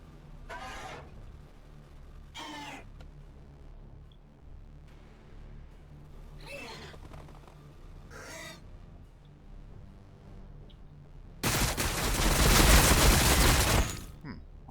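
A burst of gunfire from Tyranid Termagant units in Warhammer Battlesector arrives late as a loud, dense crackling fusillade lasting a few seconds, after a stretch of quiet with a few brief scattered sounds.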